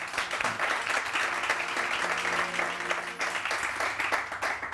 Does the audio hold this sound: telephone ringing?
no